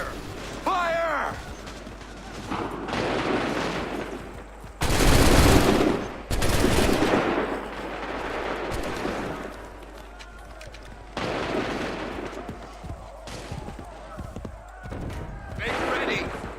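Musket volleys ring out in Assassin's Creed as massed soldiers fire, with loud cracking bursts of gunfire between stretches of shouted commands and battlefield noise.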